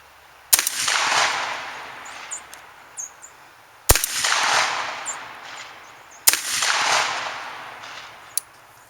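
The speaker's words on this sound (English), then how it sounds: "So Austin, I'm going to shoot these slugs." A 12 gauge shotgun firing Fiocchi slugs, three loud sharp blasts spaced a few seconds apart, each with a decaying echo tail.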